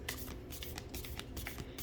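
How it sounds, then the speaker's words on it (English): Tarot cards being shuffled in quick repeated riffles, a crisp rustling and flicking close to the microphone with no talking. "As you can see, I'm shuffling the cards."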